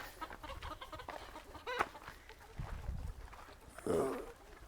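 Chickens cluck at a poultry farm, several birds overlapping in steady background chatter with a louder squawk near the end, and no talk over them.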